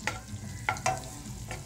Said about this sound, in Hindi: अब हम गार्लिक डालेंगे, इसको अच्छे से भूनेंगे।